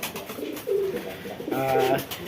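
Pigeons coo softly nearby in a couple of low, throaty phrases over a hissy background, with no talk.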